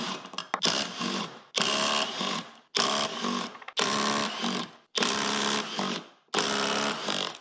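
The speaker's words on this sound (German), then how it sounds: "ich werde einfach eins nach dem anderen versuchen zu lösen und mal schauen, wie weit der Bosch dann kommt" A Bosch impact wrench loosens wheel nuts in a workshop, hammering in six loud, rattling bursts of about a second each, separated by brief pauses.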